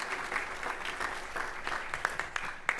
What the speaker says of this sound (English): the Honorable Congressman Vesey, a round of applause